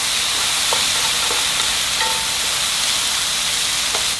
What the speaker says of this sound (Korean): 1분 정도 볶았고요